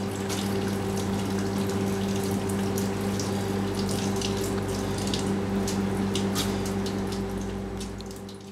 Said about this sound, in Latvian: Drusciņi pamaisam, lai notekās viss liekais šķidrums.